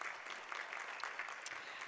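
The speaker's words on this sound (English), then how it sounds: "Let's give him another round of applause." A round of applause for a Marine Corps veteran at a Los Angeles County Board of Supervisors meeting: steady, dense clapping from a modest crowd, fairly faint and continuous throughout.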